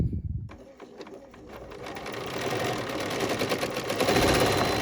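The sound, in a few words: sewing machine thread cutter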